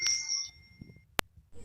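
A single bright bell ding rings sharply once as a sound effect, preceded by a short sustained chime tone that fades, with quiet gaps around it.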